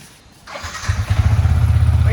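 A Yamaha MT-15 motorcycle, out again after two months in a garage, turns over and fires, then settles into a close, loud, throbbing idle. A voice can be heard briefly.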